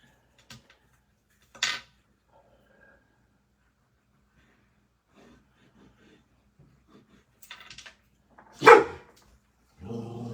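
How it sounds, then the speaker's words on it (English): A dog barks outside in a few short, separate bursts at moderate distance, with quiet gaps and small indoor clatter between them. "Hear the dog."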